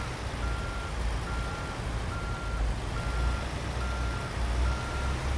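A truck in American Truck Simulator backs a trailer in, its reversing alarm beeping in an even, repeating pattern over a steady low engine rumble.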